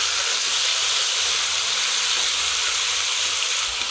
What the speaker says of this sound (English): That sizzling sound.